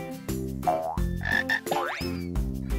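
A cartoonish frog croaking effect repeats in several loud, close croaks with bouncy, tonal sweeps in between, with no talk.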